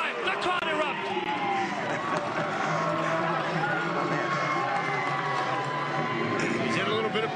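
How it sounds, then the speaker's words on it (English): A crowd roaring after a rugby try, a broad continuous wash of cheering voices at steady volume, with a commentator talking over it. "The crowd erupt."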